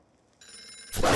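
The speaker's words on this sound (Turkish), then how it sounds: "Salih abi bak şu telefona." A telephone starts ringing, a bright electronic trill that begins faintly and then bursts in loud and close, heard alone.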